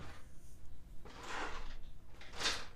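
Someone rummages through a drawer of drawing pens at a stippling desk, making a few close, loose bursts of rattling and clattering that swell, pause and return over a few seconds.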